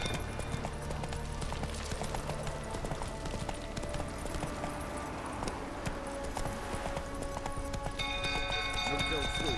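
Horse hooves clip-clop at a steady galloping rhythm in The Witcher 3, loud and continuous with a dense game soundscape behind them and a voice speaking over it.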